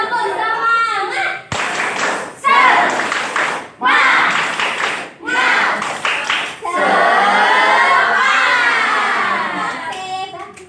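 A classroom of students claps the rhythmic tepuk semangat spirit clap, several loud patterned bursts broken by brief gaps, ending in a longer run of clapping mixed with children's chanting voices, up close and energetic.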